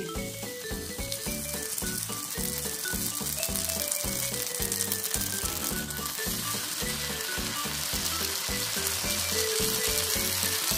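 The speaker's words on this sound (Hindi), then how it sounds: "हम एक साथ चार ब्रेड डाल सकते हैं, और डायरेक्ट डालेंगे तो पहले अंदर की जो सब्जियां हैं वो सब तवे में अच्छे से पक जाएंगे" Four bread slices spread with a vegetable paste fry in ghee on a hot tawa, giving a loud, steady, close sizzle with a rapid crackling rhythm throughout.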